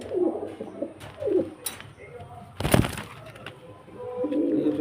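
A pair of pigeons in a Beldanga pigeon loft give soft, repeated low coos close by. Light rustling and a brief sharp clatter sound between the calls.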